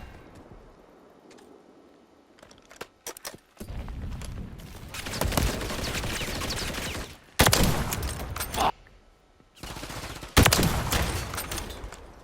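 Gunfire in a video game, including sniper shots, comes in loud bursts of rapid fire broken by short quiet gaps, heavy and close.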